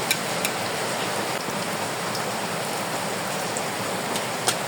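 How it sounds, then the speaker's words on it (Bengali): Rain falls outdoors in a steady, even hiss, with a few sharper drop taps now and then and no speech over it. "আমাদের এখানে বৃষ্টি হচ্ছে, বৃষ্টির শব্দ শোনা যাবে"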